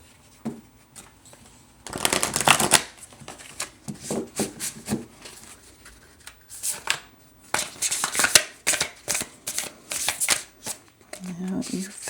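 A deck of oracle cards is shuffled in repeated bursts of crisp riffling and flicking, close and fairly loud, with short pauses between rounds.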